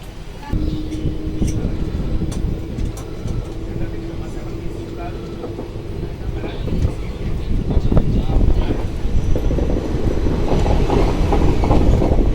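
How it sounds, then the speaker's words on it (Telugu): The Circar Express passenger train leaving Samalkot, seen from on board: a loud steady rumble of wheels on rails with rhythmic clatter, a long humming tone early on, and someone talking throughout. "సామర్లకోట నుంచి అయితే మన ట్రైన్ అయితే స్టార్ట్ అయిపోయింది"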